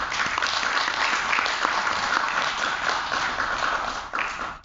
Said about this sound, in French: je pense que cela mérite un applaudissement.